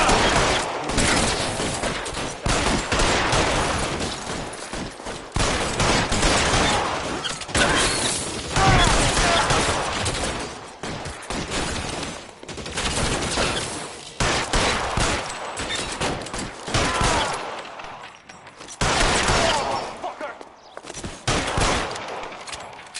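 Heavy gunfire in a shootout from the video game L.A. Noire, with dense bursts and volleys of shots crackling almost continuously for over twenty seconds, loud and close, with brief lulls between volleys.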